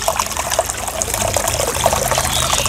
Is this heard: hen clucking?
no